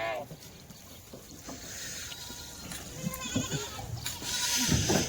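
Kathewadi goats bleat in short, scattered calls amid clattering, shuffling farmyard noise, fairly close, with the activity growing busier toward the end.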